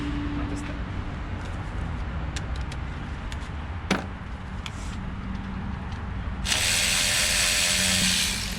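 Ratchet wrench clicking steadily as 10 mm bolts come out of the thermostat housing on a 2002 Chevy Tahoe, close and mechanical, with a louder burst of rapid ratcheting near the end.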